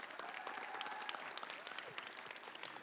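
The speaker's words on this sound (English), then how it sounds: "So a big round of applause for WHS." Steady applause from a crowd at a high school college signing event, many hands clapping continuously at a moderate distance, with faint cheering mixed in.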